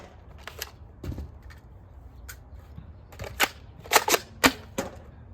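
A Nerf blaster fires foam darts in a quick series of sharp plastic snaps and clacks, sparse at first and then bunched closer together, near and fairly quiet.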